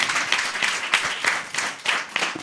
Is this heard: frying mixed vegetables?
no